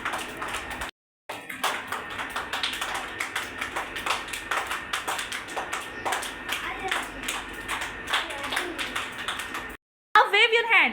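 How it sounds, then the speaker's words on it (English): Special-needs children in a classroom clap their hands in a steady run of quick, close slaps, with an adult's voice speaking over the clapping and short breaks in between. "Clap with your both hands. Clap, clap, clap. Everybody clap."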